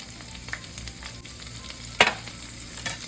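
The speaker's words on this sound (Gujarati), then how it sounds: "એની અંદર આપણે મરચાં તળવા નાખશું સાથે લીમડો પણ" Green chillies and curry leaves fry in hot oil for poha chivda, a quiet steady sizzle with small crackles and one sharper pop partway through.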